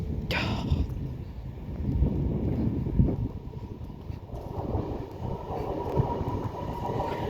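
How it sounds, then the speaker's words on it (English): A Class 390 Pendolino passes platform 1 at Rugby on the West Coast Main Line, running between London Euston and Liverpool Lime Street. It gives a close, continuous rumble and rolling wheel noise, with a sharp screech near the start. "another pendolino passing on platform 1"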